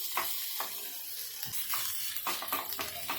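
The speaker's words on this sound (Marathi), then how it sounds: "आपण ह्याच्यातच हा व्हाईट कांदा आहे ना आपण टाकून घेऊया हा छान गरम करून घ्यायचा आहे" White onion dropped into a pan of reddening garlic in hot oil, sizzling steadily up close with scattered scrapes and stirring clicks.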